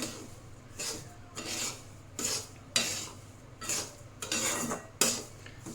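A spoon scrapes and stirs semolina roasting in ghee in a pan, producing repeated rasping strokes about every half second, close and clear with no talk.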